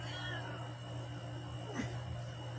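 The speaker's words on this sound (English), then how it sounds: "The cat wants to go outside" A house cat meowing to be let outside, one short, faint meow rising briefly over a steady background hum in an otherwise quiet room.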